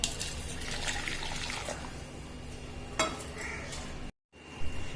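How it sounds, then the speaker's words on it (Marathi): Hot water from a just-switched-off gas stove is poured over baking soda, giving a soft, continuous liquid splash and fizz close by, with a brief sharper clink partway through and a short gap near the end. "तर याच्यावर ओतायचं सोड्यावर"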